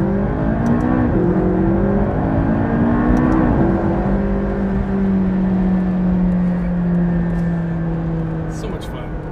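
A McLaren sports car accelerating from inside the cabin, engine note climbing through gears with loud rising revs and shift drops, steady and close, easing off at the end.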